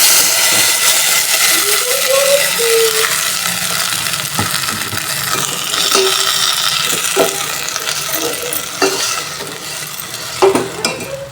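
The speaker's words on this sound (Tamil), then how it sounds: "இப்போ நம்ம அரைச்சி வச்சுருந்த மசாலா வந்து இதில் சேர்த்து" Ground masala frying in a pan for prawn thokku with curry leaves and dried red chillies, a steady loud sizzle with repeated metal spoon scrapes and clinks as it is stirred throughout.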